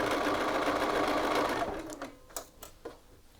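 Sewing machine stitching across a shirt yoke, a fast even whirr that runs close and loud, then stops, followed by a few sharp clicks and taps of the machine.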